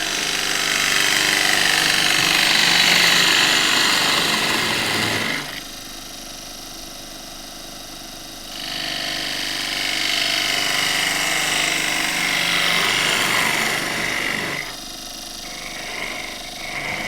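Gouge cutting a tall spruce goblet blank on a wood lathe, a sustained loud broadband rasping with a sharp break near five seconds, then steady cutting resuming and fading toward the end.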